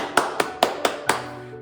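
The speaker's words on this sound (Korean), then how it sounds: "박수합시다." A children's church service congregation claps five evenly spaced sharp beats in quick rhythm, close and clear, then stops.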